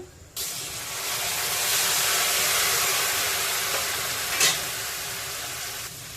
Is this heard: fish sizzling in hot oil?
yes